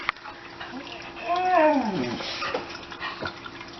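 A dog named Joe whimpers with a rising and falling whine, wanting to be fed, close by in a home, heard alongside a person talking.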